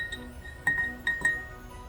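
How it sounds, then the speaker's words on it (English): A borax crystal snowflake ornament clinks against a glass jar three times in quick, close, bright taps, each with a short ringing tail. "So let's take it out and you can hear it clink against the glass."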